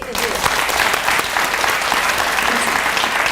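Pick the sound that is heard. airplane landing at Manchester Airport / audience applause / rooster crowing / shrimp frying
audience applause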